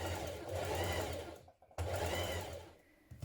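A sewing machine stitches the side seam of a pair of trousers with a 1.6 centimetre seam allowance, two quick bursts of close, buzzing motor hum split by a brief stop.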